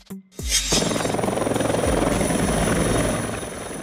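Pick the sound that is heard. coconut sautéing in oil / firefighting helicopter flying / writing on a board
firefighting helicopter flying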